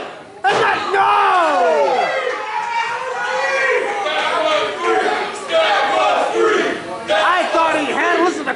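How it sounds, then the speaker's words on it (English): Wrestling crowd at an XVW match reacting to a near pinfall, loud shouting and cheering that surges, dips and surges again, with excited voices rising and falling throughout. "Listen to the crowd. They thought he had him."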